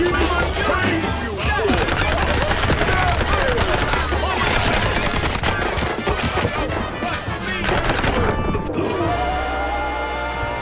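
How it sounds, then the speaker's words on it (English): Rapid, loud bursts of machine gun fire from enemy machine gunners in the video game Mouse P.I. For Hire, near and sustained, with clattering impacts mixed in before the fire cuts off near the end. "Those machine gunners are brutal."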